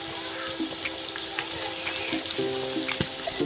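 Duck meat fries in a pan with cumin, coriander and garam masala, giving a steady crackling sizzle with scattered sharp pops and faint clinks of stirring.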